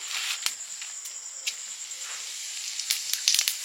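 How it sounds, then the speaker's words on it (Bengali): Whole cumin and garam masala tempering hitting hot oil for Bengali ghugni, a steady quiet hiss with small scattered crackles and pops throughout, no voices. "এবার ঘুগনিটা ফোড়ন দিয়ে দেব।"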